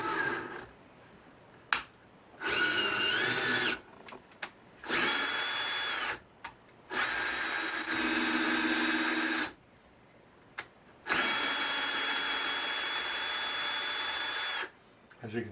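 A power tool threads wooden knobs in several loud bursts of whirring drilling, each lasting a few seconds and separated by short quiet gaps, with a little talk in between.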